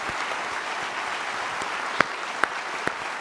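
An audience at the National Geographic Bee applauds departing competitors with a steady, moderately quiet wash of clapping, punctuated by a few sharper, nearer claps near the end.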